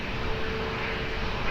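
A jet airliner taking off from runway 20 at Lisbon Airport gives a loud, steady engine roar, broad and sustained without pause through the short stretch.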